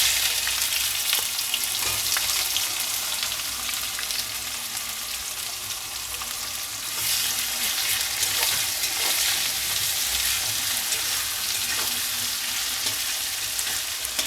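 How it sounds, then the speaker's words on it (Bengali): Four large chopped onions drop into caramelized sugar and hot oil for a chicken curry and fry with a steady, loud sizzle and crackle that runs unbroken from start to end, with no voices. "চিনিটা ক্যারামেলাইজড হয়ে গেলে এর মধ্যে আমি পেঁয়াজটা দিয়ে দেব"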